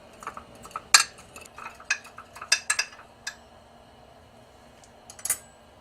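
Seasoning and granulated garlic stirred in a bowl with a utensil, giving scattered light clinks and scrapes, a few sharper taps, close and fairly quiet with no talking.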